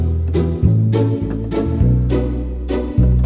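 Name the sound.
Yamaha Genos keyboard bass with offbeat pizzicato multipad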